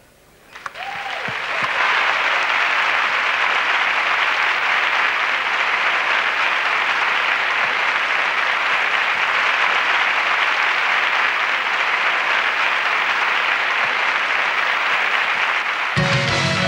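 Loud, dense applause from a gala audience welcoming a singer at a 1993 Radiolé copla show, swelling quickly and holding steady for about fifteen seconds with no talk over it.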